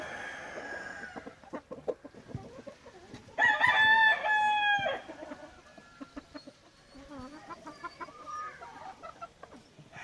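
A brown red gamefowl rooster crows once, loud and close, midway through a stretch of scattered clucks and soft calls from the pullets penned with him in a breeding yard.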